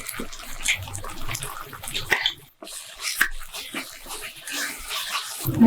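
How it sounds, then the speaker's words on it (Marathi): Water splashes and gurgles into a mixer jar in a continuous pour, close up, with a brief pause and handling noise partway through. "आता या मिक्सरच्या भांड्यामध्ये मी पाणी घालून घेणार आहे"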